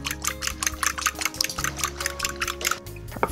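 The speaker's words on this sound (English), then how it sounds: "And I'll just whisk them together." An egg being whisked with water in a bowl, rapid rhythmic scraping and light liquid slapping strokes that repeat evenly and close, with a low hum underneath.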